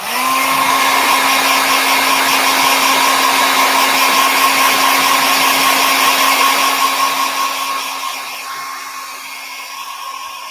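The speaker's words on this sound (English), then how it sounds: "Excuse the hairdryer again." An old travel hair dryer blows steadily over acrylic paint with a constant whine and rushing air, loud and close, easing slightly in the last couple of seconds.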